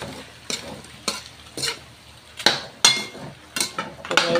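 Food frying in a pan is stirred with a utensil, sharp scraping clatters coming in a quick irregular rhythm every half second or so over a soft sizzle, close by.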